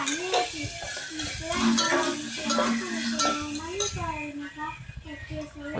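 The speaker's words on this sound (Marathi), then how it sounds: "पूर्ण मसाला आपला व्यवस्थित तेलात भाजले पाहिजे" Spice masala with cumin powder fries in oil in a pan for a potato rassa curry, giving a steady sizzle with scraping stirring strokes, under a person talking nearby.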